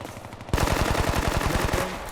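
Suppressing machine gun fire in a realistic milsim shooter game, a rapid, evenly paced automatic burst that starts abruptly and stays loud and close for about a second and a half.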